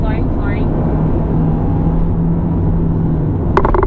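A 2019 Hyundai Tucson with a 1.6 turbo engine accelerates at full throttle, heard from inside as a steady loud rumble of engine and road noise, with a person talking over it.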